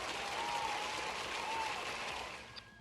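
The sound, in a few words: applause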